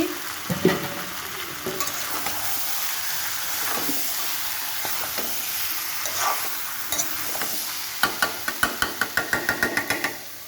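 Chicken with sliced green chilies sautéing in oil in a pan, a soft steady sizzle broken by scraping stirs and a quick run of rhythmic clanks from the spoon near the end.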